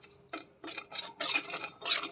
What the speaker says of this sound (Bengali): আর এই সুজিটাকে কিন্তু কন্টিনিউয়াসলি নাড়তে হবে না হলে জলে যাবে